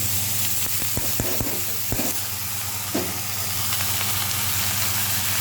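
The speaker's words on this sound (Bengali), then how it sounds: "পেঁয়াজ রসুনটা এইভাবে লাল করে ভেজে নিয়েছি" Onion and garlic frying in a pan, giving a steady loud sizzle and hiss throughout, with a few short clinks and scrapes near the start.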